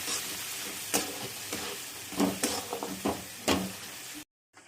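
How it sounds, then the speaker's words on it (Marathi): Spices and tomato sizzle in a pan while a spoon scrapes and stirs in turmeric for simple poha, with several sharp knocks of utensil against pan, fairly close, before a sudden cut to silence. "मी आता हळद टाकत आहे याच्यामध्ये आणि हलवून घ्यायचं।"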